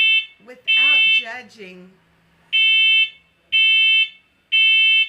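Room alarm sounding in repeated loud, shrill electronic beeps, each about half a second long with short gaps, starting just after someone briefly speaks.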